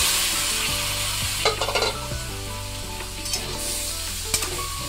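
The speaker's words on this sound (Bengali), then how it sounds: "এবার দিয়ে দেবো ম্যারিনেট করা চিকেনটা।" Marinated chicken sizzles loudly in a pan with fried onion and vegetables, a continuous frying hiss with a few sharp clinks of stirring, accompanied by steady background music.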